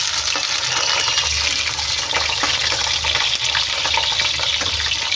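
Potatoes fry steadily in hot oil, a dense continuous sizzle and crackle heard close up throughout, with no talking.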